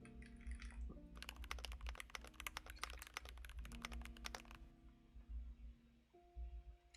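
Fingers type on a Keychron Q2 mechanical keyboard, a dense burst of close clacking keystrokes lasting a few seconds over a steady low hum, then stopping.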